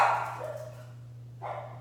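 Dogs bark and yip in short bursts at the start and again near the end, faint and somewhat distant over a steady low hum.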